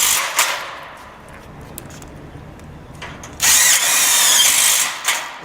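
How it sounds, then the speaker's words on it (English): A power drill drives screws into wall studs while framing an overhang, with a whirring burst at the start and a louder, sustained drilling run in the second half, close and loud. "We also add extra screws into the studs, so we like to put at least 1 or 2 screws into every stud"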